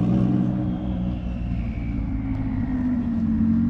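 A Porsche 911 Turbo engine and exhaust rumble steadily at close range, a loud sustained low drone with a faintly rising tone and no voices.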